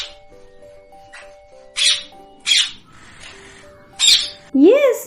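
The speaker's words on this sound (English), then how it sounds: "Yes, it is a parrot." A parrot's harsh squawks, four short loud bursts plus a final rising-falling call, sound over a steady background of faint tones and soft voice-like murmur.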